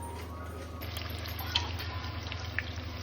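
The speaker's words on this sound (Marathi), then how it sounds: "आता पनीर घेतले तळायला" Paneer frying in oil in a kadhai gives a steady, close, even sizzle across the whole stretch, with a couple of faint clinks partway through and no talking.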